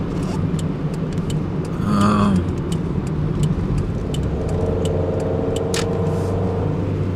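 Steady road and engine rumble heard from inside a moving car, loud and continuous, with a brief swell near the two-second mark and faint ticking and clicks over the drone.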